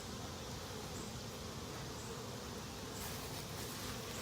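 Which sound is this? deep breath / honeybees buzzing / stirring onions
honeybees buzzing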